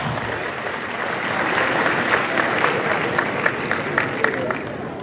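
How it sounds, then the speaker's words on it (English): A large gathering at a farmers' summit on sustainable food production applauds itself, steady dense clapping with crowd noise that holds at an even level throughout. "Please give yourselves a round of applause."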